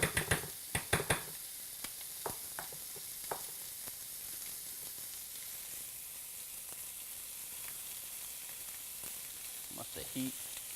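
Chicken breasts sizzle in a frying pan, a steady soft hiss of frying with a few sharp crackles and pops near the start and end, fairly quiet throughout with no talking.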